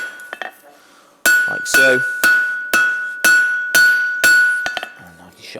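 A hammer strikes hot steel at the anvil edge while forging a flat staple, seven ringing metallic blows at a steady pace, close and loud, the anvil's high ring lingering between hits, with brief speech near the start.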